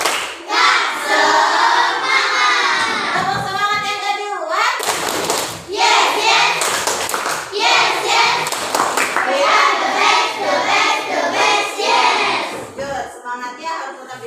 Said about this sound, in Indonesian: Tepuk semangat yang kedua.